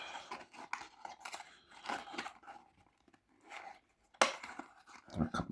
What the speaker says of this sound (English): let me get this